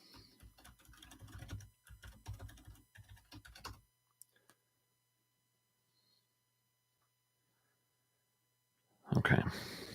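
Quick clatter of typing on a computer keyboard as a password is entered, a few seconds of dense keystrokes, then silence and a sudden louder noise at the end.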